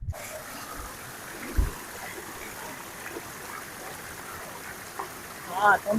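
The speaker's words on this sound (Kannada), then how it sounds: "ತಂಪು ಕೋಲ್ ಫ್ರೆಶ್ ಆಗಿ ಬರ್ತಾ ಇರೋ ನೀರು ಕುಡಿದ್ರೆ ಪರಮಾನಂದ" Soft, steady flow of cool fresh water trickling along a mountain stream on the Kudremukh trek, a low continuous wash with a few brief knocks and splashes close by.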